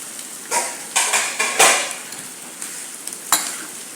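Ampalaya stir-fried with egg in a pan, a soft low sizzle under several distinct scraping strokes of a spatula against the pan, close and moderately loud, with no talking.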